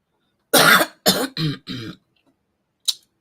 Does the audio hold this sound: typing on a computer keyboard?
no